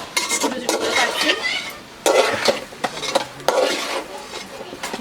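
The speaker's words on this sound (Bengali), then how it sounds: "আমি এগুলো কেটে রাখা এই লাউগুলো দিয়ে দিচ্ছি" Chopped bottle gourd tipped into a hot pan and stirred, with scraping, clattering utensil strokes and a light sizzle in several bursts, close and fairly loud.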